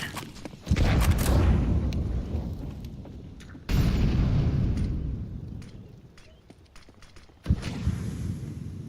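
A grenade blast in Counter-Strike 2 booms loudly, its low rumble fading over a few seconds before a second heavy explosion follows, then a third burst near the end.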